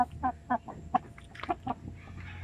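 A pure Basilan native chicken clucks while being weighed on a scale, giving a series of short, close, moderately loud clucks at an uneven rhythm over a faint background hum.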